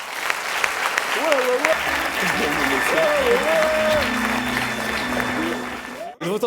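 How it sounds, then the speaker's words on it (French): A comedy show audience applauds loudly and continuously, dense clapping filling the room while a host speaks over it, ending abruptly. "Mesdames et messieurs, à nouveau, on les applaudit bien fort."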